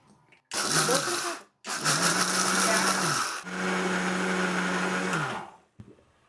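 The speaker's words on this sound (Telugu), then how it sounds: "మినపగుళ్ళు పిండి అయితే మిక్సీలో రుబ్బేస్తున్నాను" A kitchen mixer grinder whirs loudly while grinding soaked black gram into dosa batter, running in three bursts with brief pauses between, the motor pitch dropping as each run winds down.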